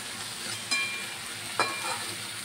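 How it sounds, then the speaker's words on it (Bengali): Water hits hot spiced oil in a pan for a fish curry, setting off two sharp bursts of sizzling over a steady background crackle of frying. "দেখুন আমি জল দিয়ে দিচ্ছি, দিয়ে দিলাম জল সিদ্ধ ঝোল হওয়ার জন্য।"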